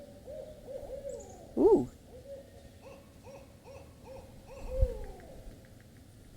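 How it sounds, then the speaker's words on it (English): An owl hoots close by during a quiet indoor yoga session, one strong hoot early and a second softer one later, with faint birdsong in the background. "There's an owl very close by."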